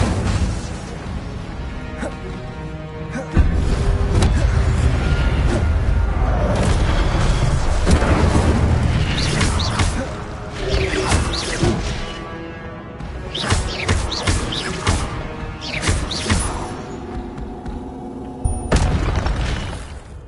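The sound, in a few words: Incendio fire spell cast in a Harry Potter video game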